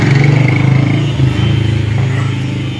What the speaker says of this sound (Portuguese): Peraí, deixa o cara passar de moto.